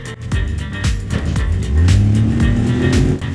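A car engine revving as the gas is pressed, loud and close, with clattering knocks before the revs climb and hold in a rising growl midway.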